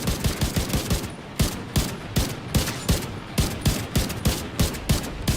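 Sustained automatic weapon fire in The Division 2 shooter game, loud and near, a steady rhythmic stream of shots lasting several seconds with brief gaps between short bursts, no speech over it.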